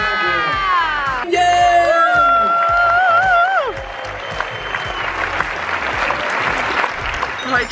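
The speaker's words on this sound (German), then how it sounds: "Den Applaus entnehme ich." A cinema audience at a film premiere bursts into loud, sustained applause with whoops and cheers, while whistling and shouted voices rise over the clapping before it thins out.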